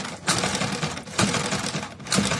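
A sewing machine with poor top-stitch tension runs in short, repeated bursts, giving a rhythmic mechanical clatter with brief pauses between runs and no talk.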